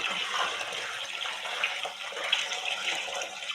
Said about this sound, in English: All right, here comes the water.